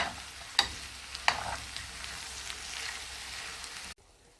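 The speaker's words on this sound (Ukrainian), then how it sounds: "Додаємо цибулю і перемішуємо." Sizzling onion in a pan with two sharp scrapes of a utensil stirring early on, then steady frying until it cuts off near the end.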